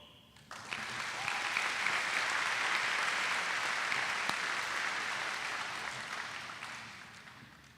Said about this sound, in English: we can applaud each one as their name is called